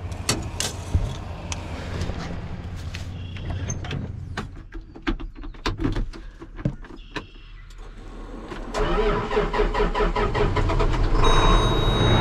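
A large engine cranks and catches, then settles into a loud, steady rumbling idle close by after some clicks and clunks.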